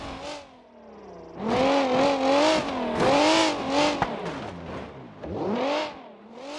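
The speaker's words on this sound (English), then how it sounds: "Oh, this car's loud." Loud car engine in BeamNG.drive, on the East Coast USA map, revving hard several times, climbing and falling in pitch up close, with brief quieter dips between pulls.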